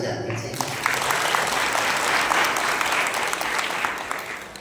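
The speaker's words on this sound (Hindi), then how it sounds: "ताली बजा दीजिए।" A crowd at a Bhagavad Gita discourse gives dense, sustained applause, loud and continuous for the whole stretch, with a voice faintly audible under the clapping.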